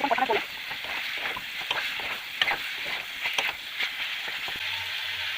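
Vegetables sizzle and fry in spiced oil in a pan while being stirred, with scraping stir strokes over a steady hiss before the sound briefly quiets near the end.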